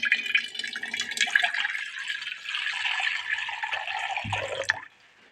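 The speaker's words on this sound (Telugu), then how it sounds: "ముందుగా కొన్ని నీళ్లు పెట్టుకోవాలి" Water poured for roti dough runs as a steady, close stream for about four seconds, then ends in a brief low splash before going quiet.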